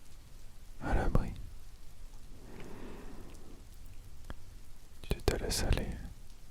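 Soft rain patters steadily, with a faint low rumble of thunder, under a quiet whispered French voice that comes and goes.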